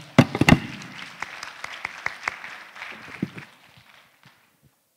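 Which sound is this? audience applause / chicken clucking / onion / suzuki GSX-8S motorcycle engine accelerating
audience applause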